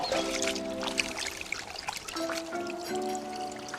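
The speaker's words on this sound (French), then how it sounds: "on va déjà rincer les planches" Water pours and trickles steadily while cutting boards are rinsed after filleting roach fish, a continuous splashing stream with a faint tonal hum running underneath.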